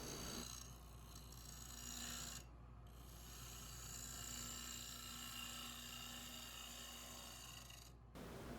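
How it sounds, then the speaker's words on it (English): A wood lathe turning a western maple bowl at about 850 RPM, a steady close rasping scrape as the tool trues up the bowl bottom over a low motor hum, with a couple of brief pauses. "now I am starting to true up what will be the bottom of the bowl."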